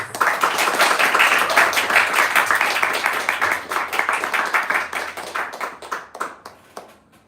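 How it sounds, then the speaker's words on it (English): An audience at a spiritual talk applauds to welcome the speaker, a loud, dense burst of many hands clapping that thins into scattered individual claps and fades out near the end. "Please, let's give him a big round of applause."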